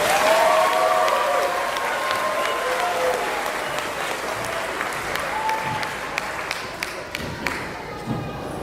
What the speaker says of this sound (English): So give them another round of applause.